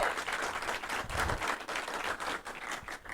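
Applause from a small live audience, a short burst of close, dense hand clapping that stays steady for a few seconds before thinning slightly at the end.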